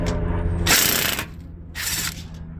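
Ratchet clicking as a gearbox bolt is loosened on a 2001 Ford F-250 Super Duty, two bursts of rapid metallic ratcheting close by over a steady low engine-like hum, with a short pause between them.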